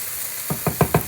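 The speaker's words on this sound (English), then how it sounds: "So basically all I'm doing is just getting the little potato, and the potato, don't forget about that one. Just sauteing them lightly." Small potatoes sauté lightly in a pan, a soft steady sizzle followed by four quick stirring scrapes close by.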